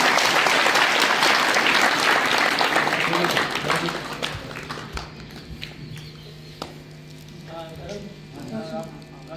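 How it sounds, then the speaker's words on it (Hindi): An audience claps to welcome guests at a girls' competition exam event, starting as dense, loud applause and thinning into scattered claps. Someone speaks over it through a PA system. "तो ये तालियां बजाकर इनका स्वागत करें।"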